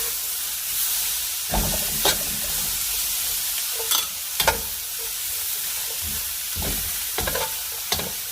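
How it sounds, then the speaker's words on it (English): Fresh vegetables and pork sautéing for pancit canton in a pan, a steady loud sizzle and hiss with repeated scrapes and stirs of a utensil every second or so, close up and without speech. "I'm going to start adding all of my fresh vegetables, and I'm just going to saute quickly."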